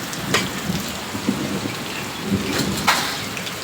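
Heavy rain pours steadily in a dense, continuous hiss, with a few louder splashes and drips standing out nearby.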